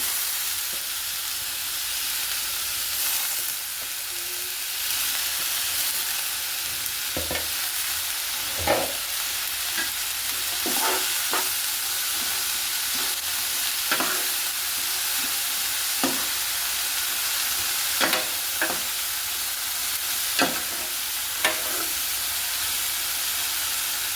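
Beetroot, carrot, cabbage and spring onion are stir-fried together in a pan. A steady hiss and sizzle runs throughout, broken by repeated sharp scrapes and clinks of a spatula, with no voices.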